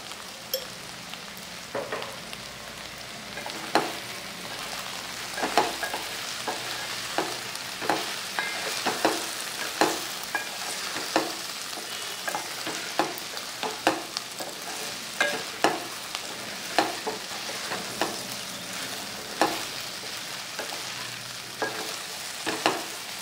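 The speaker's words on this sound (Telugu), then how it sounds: "ఇంకాస్త ఫ్రై అవ్వాలండి." Sliced okra fries in a pan with turmeric and chili powder, a soft continuous sizzle broken by regular scraping stirs of the spatula every second or so, close and fairly quiet.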